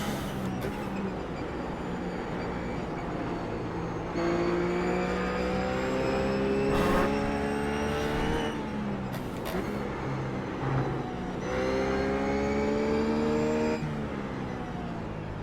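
A RUF race car in the iRacing sim at Zandvoort revs hard, its engine note climbing through gears with sharp shifts and brief lifts, loud and steady with no voices.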